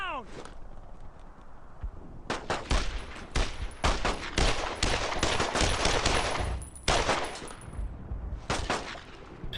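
Rifle and machine-gun fire crackle in dense bursts during a World War II firefight in Brothers in Arms: Road to Hill 30, with sharp repeated shots and short pauses while voices shout over the battle.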